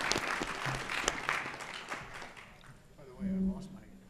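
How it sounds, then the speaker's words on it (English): A crowd applauds with scattered clapping that fades after a couple of seconds, followed by a voice speaking nearby. "Let's give our speakers a round of applause."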